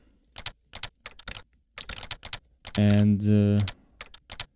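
Close, quick bursts of typing on a computer keyboard entering details into a website contact form, clustered keystrokes with short gaps and one brief spoken word in the middle.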